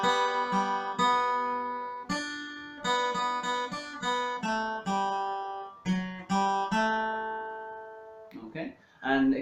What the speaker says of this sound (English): The second tab is the exact same melody but in a lower octave.